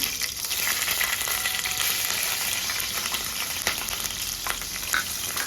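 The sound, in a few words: green chillies frying in oil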